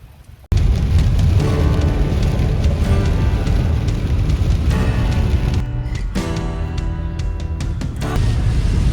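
Steady rain pours down on a cold day as a dense, continuous hiss that begins abruptly after a brief quiet moment and holds loud throughout, with no voices.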